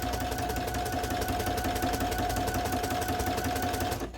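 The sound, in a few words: sewing machine stitching the apron pocket lining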